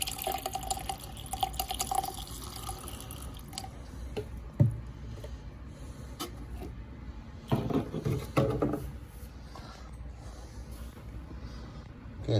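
Water poured into a newly plumbed shower drain, a soft continuous trickle and splash with occasional louder gurgling drops and sloshes, close and fairly quiet.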